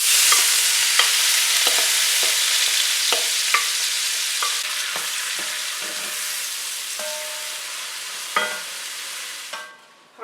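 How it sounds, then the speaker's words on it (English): Chopped carrots, celery and onions sauté in bacon grease in a pot over medium to medium-high heat: a loud, broad sizzle with repeated spoon scrapes and clicks from stirring, then a sudden drop near the end. "I threw in the carrots, celery, and onions, and I left a good part of the bacon grease in there"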